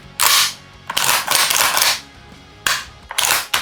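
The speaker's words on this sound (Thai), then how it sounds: "ขอทำการเคลียร์ปืนเรียบร้อยก่อน" A firearm being cleared as its action is worked: several loud, harsh mechanical bursts of metallic clatter in uneven clusters, close by with short pauses between them and no voices.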